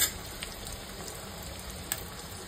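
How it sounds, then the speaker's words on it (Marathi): Onion sautéing in oil in a pan gives a steady close sizzle and crackle, broken by a couple of soft stirring scrapes, with no voices. "कांदा परतून घ्यायचा आहे।"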